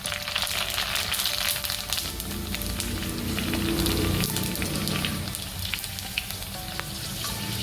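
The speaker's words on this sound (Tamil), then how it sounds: "நல்லா ஒரு 5-6 போட்டு நம்ம அப்படியே பொரிச்சிடலாம்" Puris frying in hot oil on a low flame, a dense, steady sizzle and crackle that runs loud and close throughout with no talking.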